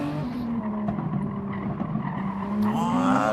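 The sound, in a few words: tyres skidding under hard braking in a racing video game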